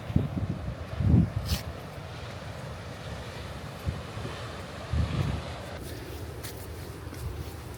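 Strong coastal wind at Pointe des Châteaux, Guadeloupe, buffets the microphone in low gusts, with a roar of surf underneath and a couple of heavier blasts.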